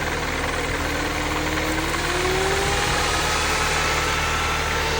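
A Mini Cooper S R53 engine idles steadily while its coolant fan runs, producing a constant loud whooshing roar over a low engine hum, close and continuous with no talking.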